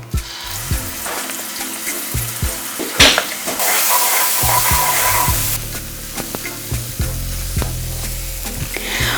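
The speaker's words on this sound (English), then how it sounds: "Into the pan I'm going to add some sesame oil. I'm going to add this paste into oil." Garlic and chili paste sizzles loudly in hot sesame oil in a pan, with steady frying crackle, scraping stirs and a brief burst of stronger hiss partway through.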